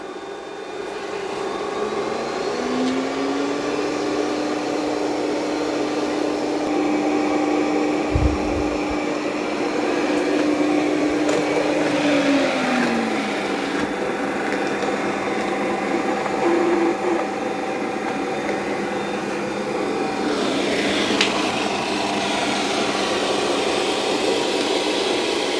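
An Ecovacs Deebot T30S combo robot vacuum and mop runs with a steady, close whirring motor hum that holds throughout, with a rising tone near the start and brief bumps and shifts as it moves across the floor.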